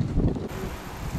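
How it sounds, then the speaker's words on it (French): Wind blowing by the sea on the Noirmoutier coast, buffeting the microphone with a strong low rumble that eases into a steadier rushing gust, no voices. "d'autres endroits il y a du vent"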